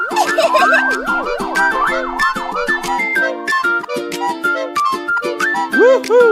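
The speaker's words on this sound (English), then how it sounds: "Look, a police car." Police car siren in a children's song, a loud close wailing siren sweeping up and down in repeated cycles over a steady bouncy musical backing.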